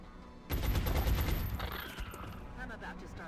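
Soldiers fire a rapid volley of shots in the XCOM video game: a loud, sustained burst of gunfire that starts abruptly, then tapers off into fainter rattling and ambient noise.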